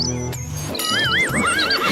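A horse whinnies loudly with a wavering, descending neigh that runs most of the clip over a steady background music bed, close and prominent, with no talking.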